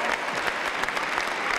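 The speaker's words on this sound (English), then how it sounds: "Mr. Thompson applauds them out" A crowd at the Crufts 1996 dog show, during Terrier Group judging, breaks into steady, close, continuous applause with dense overlapping claps throughout.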